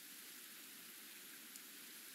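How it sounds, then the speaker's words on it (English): Steady rain falls in a video game scene, a dense even hiss of drops on surfaces continuing without pause, with no voices over it. "Why is it raining all of a sudden?"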